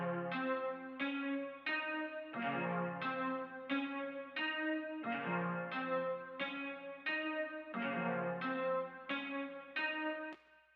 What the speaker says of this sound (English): I took a guitar from Analog Lab and I played in a super simple pattern